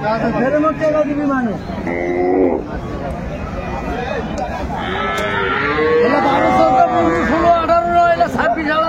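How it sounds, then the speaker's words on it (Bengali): Cows and calves low repeatedly at a busy cattle market, the Aftabganj haat, with loud close moos rising above the steady babble of buyers and sellers talking nearby. "আর আমরা দেখছিলাম এখানে একটি গাভী বাছুর দেখছেন বেলাল ভাই।"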